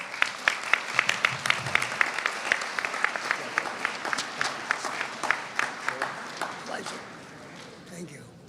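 An audience at a political podium event claps in a dense, sustained round of applause that gradually thins and fades near the end, with voices faintly audible.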